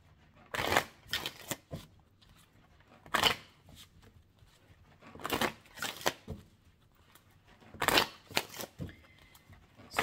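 Oracle cards for a Gemini tarot-style reading being shuffled by hand, with several bursts of crisp riffling and slapping separated by quieter pauses, close and clear with no talking.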